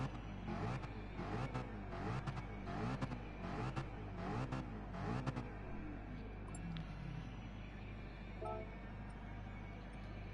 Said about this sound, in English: hear a bit of engine noise